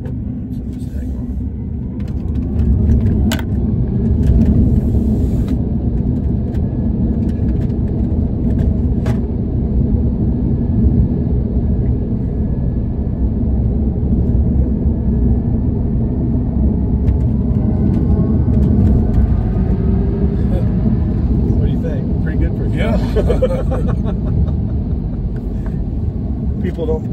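A dual-motor Tesla Cybertruck accelerating hard in sport mode, a loud low rumble of road and cabin noise that builds and holds, heard from inside the truck.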